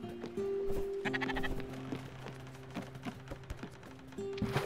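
Sheep bleating in the video game Spiritfarer: several wavering, tonal bleats in a row, moderately loud and close, with game sounds underneath and no talk over them.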